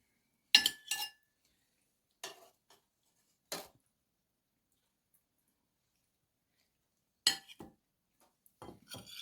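Cooked chicken drumsticks set down on a plate, heard as a few separate clinks and taps against the dish, sparse and close, with long quiet gaps between them.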